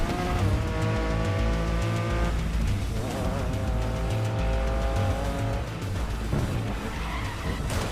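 Race car engine in the GRID Legends racing game roaring at high revs with sustained harmonic whine, shifting pitch across gear changes, tires squealing and skidding through corners, loud and continuous with no talk.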